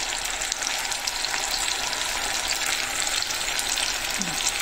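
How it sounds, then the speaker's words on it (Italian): Peeled tomatoes hiss and sizzle steadily in a pan of sausage sauce, a constant close frying crackle with faint scraping, no voices. "ora vado a mettere giù il pomodoro pelato"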